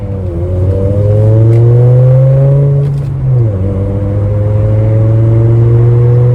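Straight-piped Volkswagen 2.5L 07K five-cylinder heard while driving, a loud, close, continuous engine drone that climbs in pitch, drops at a gear change and then holds steady.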